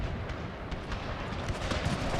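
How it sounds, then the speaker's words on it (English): Mortar fire during a Total War battle set in the Thirty Years' War, a dense continuous rumble of overlapping distant booms and battle noise with no clear individual shots standing out. "A large part why I want them to withdraw is because the mortars are about to fire again."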